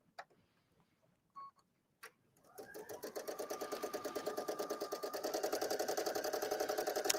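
A domestic sewing machine, driven by a foot pedal, starts after a few soft clicks and settles into a steady rapid stitching rhythm that holds, close and clear, to the end.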